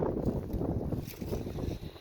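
Strong wind buffets and roars across the microphone in uneven gusts in a front yard in Chicago, rough and close, with no voices.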